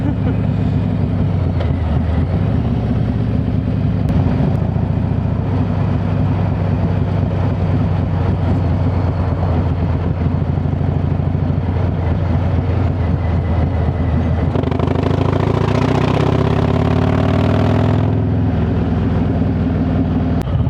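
Harley-Davidson Road Glide motorcycle engine producing a loud, continuous low rumble that stays steady throughout, with a brief rise in intensity near the end.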